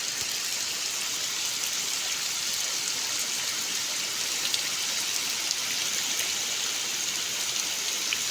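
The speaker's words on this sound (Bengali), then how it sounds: "খুব জোরে বৃষ্টি।" A heavy downpour pounds over the Manda wetland beside the Manda river, a loud, dense, continuous roar of rain with no break and no voices.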